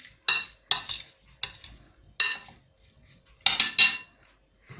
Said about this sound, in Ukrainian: Ще раз перемішаю.